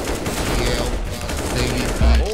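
Rapid automatic gunfire in a Counter-Strike style shooter, a dense continuous rattle of shots, loud and close, ending in a heavier burst.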